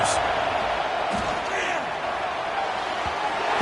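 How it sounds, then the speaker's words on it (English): A stadium crowd at a college football game makes a dense, sustained roar that fills the space evenly, with a few faint shouts rising out of the wash. "Listen to the crowd energy here in the early going."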